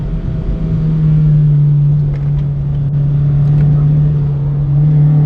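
A Honda Civic Type R EP3 engine running on a race track, a steady loud in-cabin drone holding nearly constant revs throughout, with faint clicks and rattles over it.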